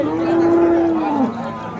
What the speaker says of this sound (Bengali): ক্রস নারা গাভী।